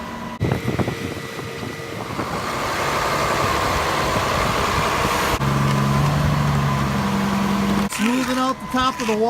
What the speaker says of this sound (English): You can see the big pump truck behind me